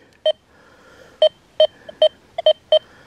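Sharp, short electronic beeps from a Deus 2 metal detector at speed 3 repeat irregularly, about eight in three seconds, each a clear bright target tone over a faint background hum.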